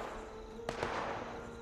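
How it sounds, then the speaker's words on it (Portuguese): Gunfire in the video game Fallout 76, a short sharp report followed by a second weaker shot a moment later, distant and fairly faint over a steady ambient background. "Opa, eu tô escutando tiro."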